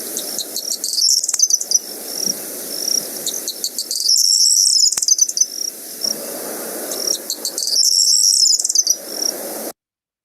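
A corn bunting sings in the UK countryside: close, loud, repeated jangling phrases separated by short pauses, over a low rumble of wind.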